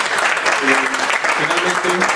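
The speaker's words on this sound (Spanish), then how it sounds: "Un fuerte aplauso, por favor" Loud, dense clapping from an audience at a library talk on a singer's discography, sustained for the whole stretch with voices calling out over it.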